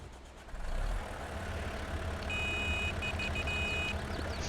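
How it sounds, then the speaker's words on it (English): A massive wheel loader in Farming Simulator 22 starts up and settles into a low, steady diesel rumble. Reversing beeps cut in partway through. "Let's start it up just so you can hear the engine."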